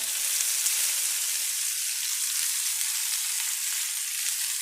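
Potatoes with green onion sizzling and frying in a pan, a steady, dense hiss that holds at an even level throughout with no talking.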